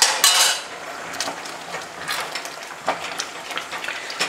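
Risotto alla Milanese being stirred in a pot after broth is added by the ladle, with a utensil scraping and clinking against the pot in irregular close taps and scrapes, moderately loud, no talking.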